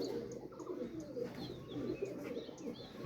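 High-flyer pigeons coo softly in a brief, low, rolling murmur, faint and close, with a few light chirps and no talking.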